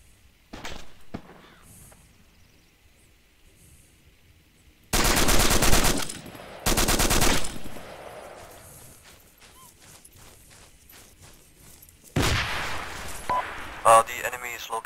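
Enemy gunfire in a military video game night operation, fired from a three-story building: loud sustained bursts of automatic fire in several clusters, separated by quieter stretches with scattered distant shots and radio-style voices.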